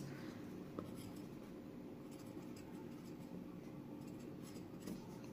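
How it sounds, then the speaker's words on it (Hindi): A pen scratches across paper while a label is written onto a hand-drawn small house floor plan, soft and close, in faint continuous strokes under a low background hum. "इसको हम पैसेज लिख देंगे"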